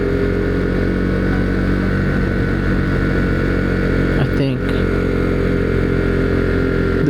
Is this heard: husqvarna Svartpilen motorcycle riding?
yes